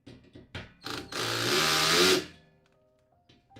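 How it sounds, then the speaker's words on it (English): A power tool whirs loudly for about a second while driving parts in during a datacenter install, preceded by several short knocks and followed by quiet handling. "I'm gonna crank that up a little bit and hammer that"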